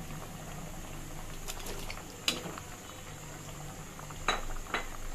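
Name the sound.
potato tomato fish curry broth boiling in pot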